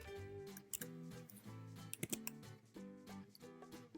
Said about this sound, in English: So I will delete the spaces and press the tab on the keyboard once for each line.